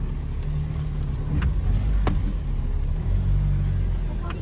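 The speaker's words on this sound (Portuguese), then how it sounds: "O carro já ligou o controle de estabilidade." Car creeping slowly over rough rural terrain with stability control engaged, its low engine rumble steady throughout, with a few faint knocks and creaks from the bodywork.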